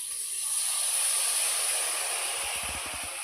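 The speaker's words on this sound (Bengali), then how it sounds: "ঝোলটা ফুটছে।" Fish curry gravy boils in a pot with a steady bubbling hiss, close and constant, with a few soft low knocks near the end.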